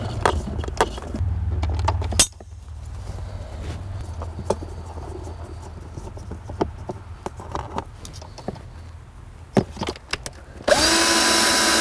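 A power drill backing screws out of a car's evaporator case in a shop, loud whirring bursts at the start and end with clicks and rattles of handling in between.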